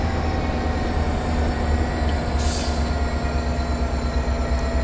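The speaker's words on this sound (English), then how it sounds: "Apparently this train can slow down ridiculously quickly." A commuter train on the Peninsula Corridor in Train Sim World 2020 braking hard, a continuous loud rumbling rail roar with steady tonal whine and a brief high squeal midway, no talk.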